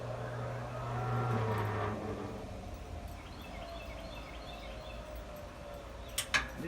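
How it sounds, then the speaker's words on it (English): Motorcycle wheel spun by hand on an Atlas WB42 wheel balancer, a rising then falling whirring hum from the machine that fades to a quiet background, ending with a couple of sharp clicks. "I like to give it a little spin to get it going, saving my motor."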